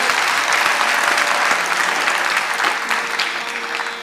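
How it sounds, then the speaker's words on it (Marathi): An audience applauds for actress Ashatai Khadilkar at a Marathi stage event, a dense, loud round of clapping that carries on steadily and fades slightly toward the end. "आशाताई खाडीलकरांसाठी एकदा जोरदार टाळ्यांचा गजर करूया"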